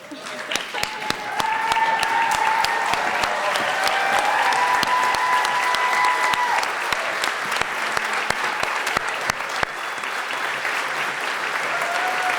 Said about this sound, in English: Please stand and applaud our graduates.